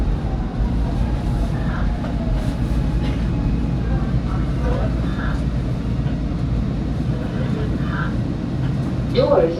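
SEPTA Market-Frankford Line subway train number 1187 riding between 63rd and 11th Street, a constant rolling rumble and rail clatter from the front of the car with faint squeaks and rattles throughout.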